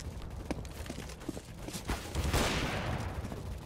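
Faint gunfire in a competitive shooter sniper match, scattered small shots followed by a broad hissing burst after a flashbang, then a shot, all distant and low in level with no voices.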